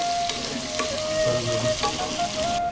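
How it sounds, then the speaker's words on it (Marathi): Onions frying in hot oil for chicken dum biryani, a steady dense sizzle with occasional stirring scrapes, close and continuous with no talking. "तेलामध्ये लाल होईपर्यंत याला भाजून घ्यायचं"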